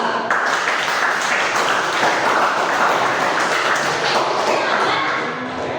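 Applause in a classroom, a dense continuous patter of many hands clapping together at a steady loud level for several seconds, fading slightly at the end.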